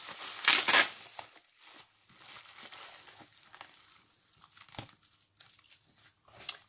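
Crinkly packing material rustles and tears as a well-wrapped PandaHall parcel of die-cut tools is opened, with a loud crumpling burst near the start followed by softer intermittent crackles and a sharp rip later.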